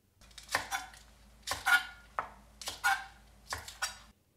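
A knife slices through the white and green parts of a scallion on a cutting board, four evenly spaced crisp chopping strokes, close and clear with no talk.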